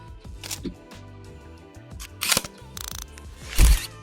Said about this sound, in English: I will search for the camera shutter sound that I love